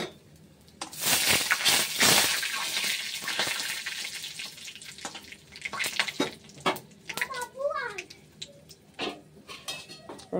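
Bay leaves with dried and green chillies dropped into a hot pan, giving a burst of frying hiss with utensil scrapes and stirring clatter, then lighter clinks and sizzle.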